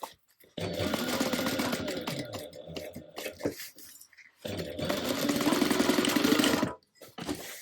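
A sewing machine stitching a 3/8 inch seam allowance in fabric, two sustained runs of rapid motor whirring and needle chatter separated by a short pause, close and clear.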